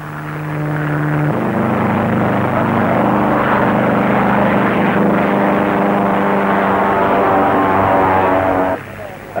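A Granville monoplane in a historic air race drones past with a loud, continuous propeller-engine roar. The pitch shifts slightly as it goes by and the sound fades near the end.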